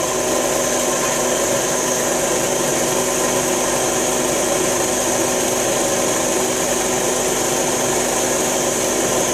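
A machine runs continuously while machining a clutch plate mating face, making a steady, even mechanical whir and hiss with no breaks or voices.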